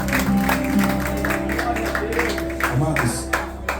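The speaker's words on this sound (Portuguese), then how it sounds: "Vamos aplaudir." A church congregation applauds in a dense burst of clapping that fades gradually, with a sustained musical tone and voices mixed underneath.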